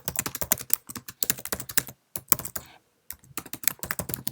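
Rapid clicking keystrokes on a Mac keyboard while an email is typed, coming in quick bursts with a couple of short pauses, close and clear with no talking.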